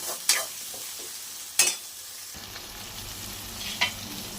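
Big tomato pieces fry in oil for a chicken curry, a steady sizzle broken by a few sharp scrapes of a spoon stirring the pan, close and without talk.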